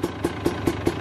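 A 300 TPi stroker supermoto engine with an FMF exhaust idles close by with a steady low rumble and evenly spaced popping pulses about every quarter second.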